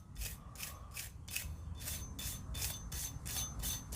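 Sig P365 pistol slide rails wiped down by hand to clear gunk and pocket lint, a close, steady run of about ten rhythmic rubbing strokes at an even pace.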